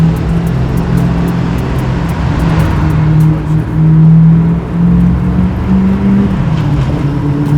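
Hennessey Venom F5 Roadster supercar in sport mode under way with a single-clutch gearbox, a steady loud engine drone that dips briefly at a shift before climbing again, heard from inside over heavy road and wind rumble.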